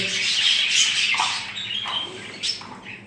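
Budgerigar chicks squawk and chirp in a nearby breeding setup, a dense run of high, scratchy calls that overlap continuously, with a few louder chirps standing out near the end.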